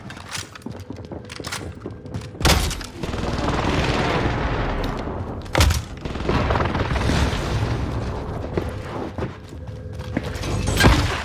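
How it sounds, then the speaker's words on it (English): Explosions from an enemy precision airstrike in a first-person shooter video game, several sharp booms spaced apart over a continuous rumbling roar of gunfire and blasts. "Enemy precision airstrike."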